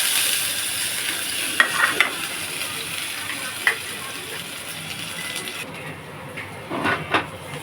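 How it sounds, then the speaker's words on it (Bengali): Chili and ginger frying in oil in a pan, a steady moderate sizzle with occasional sharp clinks and scrapes of stirring, quieting slightly partway through before a few more knocks at the end. "এটা একটু লঙ্কা দিয়ে দিলাম, ভাজবো। আর হচ্ছে এই আদা দিয়ে দিলাম।"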